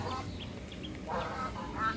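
Chinese ducks kept as backyard poultry give a few soft, short quacks over a steady low background hum. The calls are faint and scattered across the moment, and no clear speech is heard.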